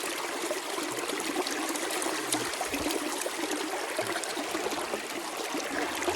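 Fast creek water at Slaty Creek rushes through a sluice box in a steady, close, continuous splashing flow, with no voices.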